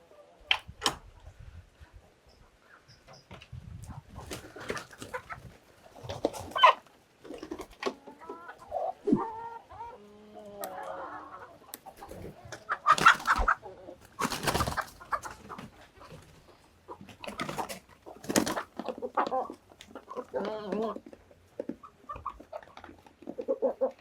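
Village chickens cluck and squawk busily before a morning feeding, a rooster among them, with overlapping calls near and far and louder bursts now and then.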